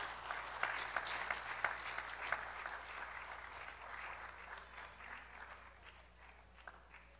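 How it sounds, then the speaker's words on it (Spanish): Audience applause for a marimba builder at a Guanacaste cultural festival tribute, steady many-handed clapping at moderate distance, gradually tapering off over several seconds. "Un fuerte aplauso para don José Ángel Ruiz Murillo"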